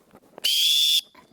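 A single sharp, high whistle blast, about half a second long, given as a signal to a paddling group on the water, loud and clear against a quiet background with faint voices before and after.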